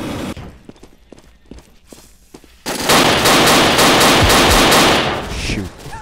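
Gunfire in the World War II dinosaur shooter game Dino D-Day: scattered single shots and faint footsteps first, then a sudden loud, sustained rapid-fire burst of shooting that lasts several seconds.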